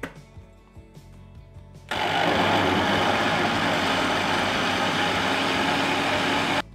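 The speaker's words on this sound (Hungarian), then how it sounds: "És turmixoljuk." Blender whirring through chickpea hummus with olive oil, a loud steady motor roar that starts abruptly after a quieter stretch of kitchen sounds and runs continuously for several seconds before cutting off.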